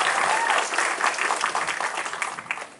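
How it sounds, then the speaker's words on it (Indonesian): Seminar audience applauding a speaker at a creative seminar, a dense steady wash of many hands clapping throughout, loud and sustained, gently tapering near the end. "tepuk tangan lagi buat Mas Erik"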